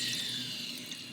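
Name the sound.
water poured into stained glass grinder base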